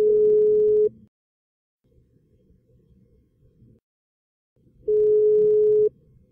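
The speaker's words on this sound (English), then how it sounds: "when we call someone and we wait for them to pick up the phone, each tone we hear lasts 1 second" A telephone ringback tone heard while waiting for a call to be answered: two steady one-second tones separated by a long pause, clear and alone with only faint low rumble in the gap.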